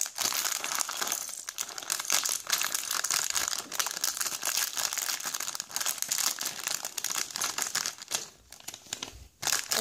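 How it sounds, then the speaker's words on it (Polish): Plastic bags of Lego Classic 10709 bricks are torn open and handled, giving continuous close crinkling, crumpling and rustling with occasional sharper tears. "No i otwieramy wszystkie woreczki."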